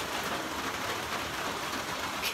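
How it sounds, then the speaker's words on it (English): Steady rain falls on a wooded trail near a spring shelter, a dense, even hiss of drops that fills the whole moment without pause or speech. "Now I've got to do it in the rain."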